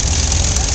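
A 1946 New Holland model 76 hay baler runs in a field, a loud, dense, steady mechanical engine drone over less than a second with no distinct strokes.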